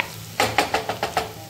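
Onion and tomato cooking in a pan are stirred in six quick, evenly spaced scrapes, close and moderately loud over a faint steady sizzle, with no voices.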